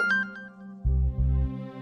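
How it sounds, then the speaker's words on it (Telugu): A mobile phone ringtone plays for an incoming call, a short electronic melodic phrase of sustained tones and a low repeating figure, close and clear with no voices. "లిఫ్ట్ చెయ్యి, లేకపోతే ఓ తెగ ఫోన్లు చేస్తూనే ఉంటది"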